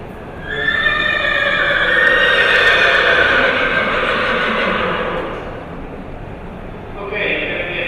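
A young horse at an equestrian show practice gives a loud, drawn-out whinny lasting several seconds, close by, followed by a shorter neigh near the end, with faint voices in the background.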